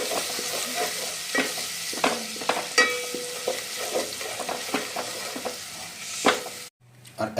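Chicken for Kolkata-style chicken chaap stirred in a frying pan with Kashmiri red chili powder, a spatula scraping in repeated strokes over a soft sizzle, close and clear, with no talking, ending in a brief pause and a final scrape.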